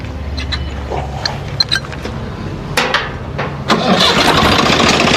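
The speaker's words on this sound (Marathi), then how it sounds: "एकदा ट्रॅक्टर चालू करायला लागेल त्यासाठी समजा." A Swaraj 742 XT tractor, a 2020 model, has its engine cranked and started: a low rumble and a few sharp knocks give way to a louder, steady running engine that holds to the end, with no talk.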